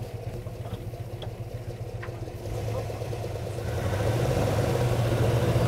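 A PAZ bus converted into a motorhome pulls away in low first gear with the front axle engaged, its engine droning steadily and growing louder as it gets under way.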